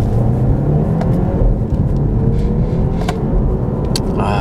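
A BMW 530i xDrive M Sport in sport mode, shifted manually with paddles, accelerates with a steady low engine rumble and road noise heard from inside the cabin, loud and continuous.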